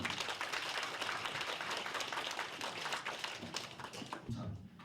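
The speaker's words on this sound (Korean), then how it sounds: "박수로 좀 한번 드리겠습니다" Gathered residents at a neighbourhood community meeting in Gwangmyeong, South Korea, applaud, a faint, steady patter of clapping that carries on for several seconds before thinning out toward the end.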